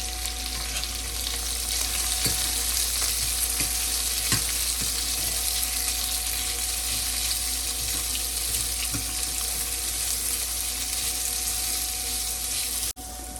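Onions frying in mustard oil with cumin for baingan bharta, a steady broadband sizzle filling the whole stretch with a few scattered stirring clicks, close and continuous with no talking.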